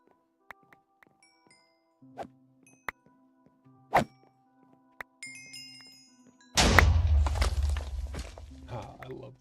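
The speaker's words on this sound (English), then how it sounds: "Another loot pinata." Scattered thunks and dings in Minecraft lead into a sudden loud burst as a loot pinata explodes, followed by a dense, rattling spill of item sounds that fades over several seconds.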